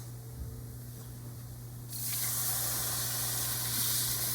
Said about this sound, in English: the next thing we're going to do is we're going to add in our beef broth